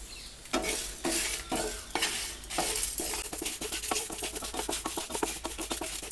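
A spoon scrapes and stirs dry spices roasting in a pan on low heat, steady rhythmic scratching and clinking with a faint sizzle, close up and continuous.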